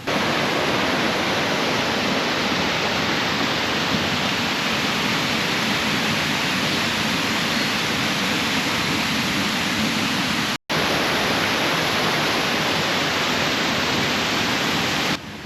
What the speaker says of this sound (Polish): szum wodospadu, a jak podejdziemy bliżej, to nie będzie słychać nas w ogóle